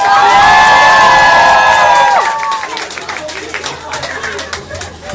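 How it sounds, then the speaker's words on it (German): Audience at a live concert applauding and cheering, a dense burst of clapping with shouts and whistles that fades after two seconds into scattered claps and crowd chatter. "Kleiner Applaus für Timo"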